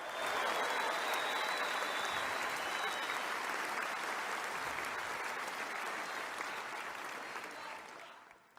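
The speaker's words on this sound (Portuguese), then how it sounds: "O público aplaude." Loud, sustained applause from a large crowd at a Donald Trump speech fills the whole stretch, steady and dense, fading slightly toward the end.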